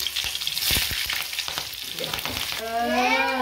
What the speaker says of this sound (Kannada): ಇವಾಗ ಮೆಣಸಿನ್ಕಾಯಿ ಹಾಕ್ತಾ ಇದ್ದೀನಿ